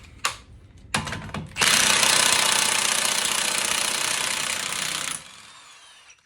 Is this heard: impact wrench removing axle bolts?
yes